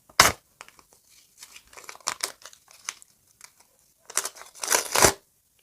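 Paper surprise packet being torn open and crinkled by hand, a few close, sharp rustling bursts with quiet gaps between, loudest at the start and near the end.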